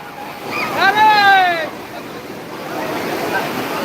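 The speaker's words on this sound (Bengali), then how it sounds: "আসছে দেখো কত বড় একটা ঢেউ আসছে দেখো" A person calls out excitedly over the steady wash of ocean surf at Digha beach, India, which continues alone after the voice stops.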